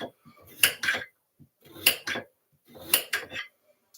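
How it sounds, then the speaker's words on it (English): Potatoes being sliced with a knife on a board for Scottish stovies, with three clusters of sharp clicking cuts and taps at close range separated by brief quiet gaps. "So let's get my potatoes sliced."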